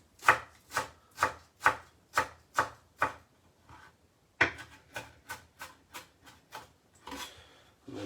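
Fresh coriander bunched up and finely chopped with a knife on a board for chilli con carne salsa, giving a steady run of crisp, close knife strikes with a short pause midway, no talking.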